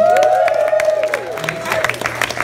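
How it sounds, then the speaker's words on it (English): A live audience at a stage performance cheers and applauds, with whoops and shouting voices riding over a steady, dense patter of clapping that stays loud and close throughout. "I did it on my birthday, so you had to cheer."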